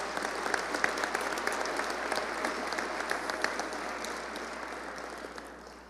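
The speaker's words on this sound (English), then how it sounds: "If you would, please give them a round of applause." Round of applause from a seated audience at a city State of the City event, dense steady clapping that gradually tapers off toward the end.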